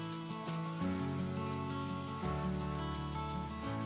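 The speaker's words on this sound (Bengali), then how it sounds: "মিডিয়াম ফ্লেমে পেঁয়াজগুলোকে একটু হালকা করে ভেজে নেবো" Sliced onions with black cumin frying in oil over a medium flame, with a steady dense sizzle running throughout, loud and close, under a continuous tonal background.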